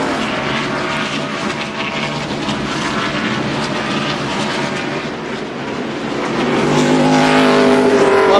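NASCAR race cars at Martinsville in the 2002 Virginia 500, a steady loud roar of engines that swells louder toward the end, with no talk over it.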